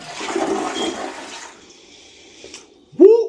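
A newly installed replacement toilet flushes with a loud, close rush of swirling water that tapers into a quieter draining trickle, followed by a brief exclaiming voice at the end.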